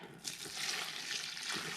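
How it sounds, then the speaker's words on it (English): Hot lye solution for soap making poured over hard oils, a steady close hiss and trickle of liquid lasting under two seconds. "while my lye solution is so very hot, we are going to pour it over our hard oils"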